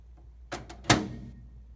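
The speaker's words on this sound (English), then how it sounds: "Next, I close the microwave door." A microwave door is shut while popcorn is being prepared, giving two light clicks followed by a sharper latching thud, close and brief.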